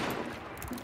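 Gunfire in Hunt: Showdown, with a quick burst of sharp shot reports in under a second, distant-sounding and fairly faint.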